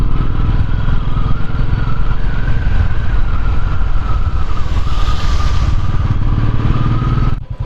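A motorcycle rides a mountain road in Sikkim, its engine droning loud and steady close by for the whole stretch, with wind rush and road clatter and no speech.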